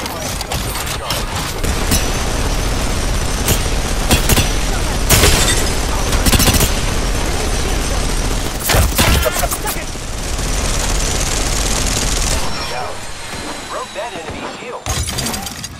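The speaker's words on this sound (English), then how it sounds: "The enemies are shooting at me" Enemy gunfire in a sci-fi shooter video game, with rapid bursts, sharp shattering impacts and booms crowding a busy, loud mix, while a voice talks over parts of it.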